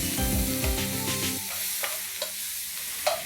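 Ginger and garlic paste frying in hot oil for chicken curry, a close, constant sizzle with occasional spoon taps and scrapes against the pan, heard alone.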